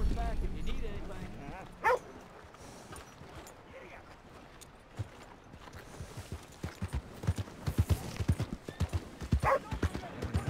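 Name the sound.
horse hooves clip-clopping in video game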